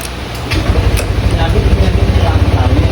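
Honda Click scooter engine starting up again after the key is switched off and back on, then settling into a loud, steady idle with a rapid rhythmic pulse.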